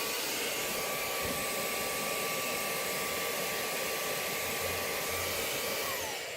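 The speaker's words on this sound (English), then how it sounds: "I'll turn the vacuum off so that none of the solution is getting sucked up" A vacuum cleaner runs continuously while car interior carpets are detailed, a loud, steady whooshing roar with a high whine that holds throughout without pause.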